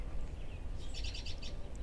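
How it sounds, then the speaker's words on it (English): Faint bird chirps flutter in a quick cluster against a low, steady outdoor rumble, with a brief extra tweet near the end. "can you hear the birds chirping?"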